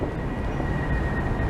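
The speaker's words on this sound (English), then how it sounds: "Here's our 4 tram." A Budapest number 4 tram in service at a stop, giving a steady, loud rumble of rolling and motor noise with a faint high whine, close by and without talk.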